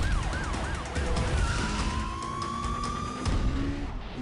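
A police siren in the video game Need for Speed: Undercover wails nearby, rising and falling before settling into a long steady tone, over a rumbling engine and traffic noise.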